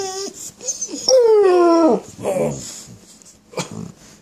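A puppy whines for treats with a long, rising, high-pitched whimper followed by shorter whines and soft vocal noises, close and fairly loud.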